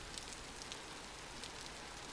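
Rain falls in the video game Vintage Story as a faint, steady hiss of patter with a few soft droplet ticks, alone and without talk.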